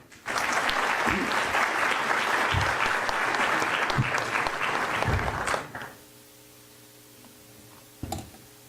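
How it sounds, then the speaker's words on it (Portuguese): An audience at a heraldry society's 2018 year-end ceremony applauds a commander, a loud, dense burst of clapping lasting about five seconds before cutting off to a quiet room hum, followed by a single faint thump. "Vamos aplaudir o comendador."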